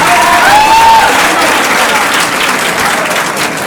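Loud, continuous audience applause at a poetry gathering welcomes a poet to the stage, dense and steady with a thin whistle early on.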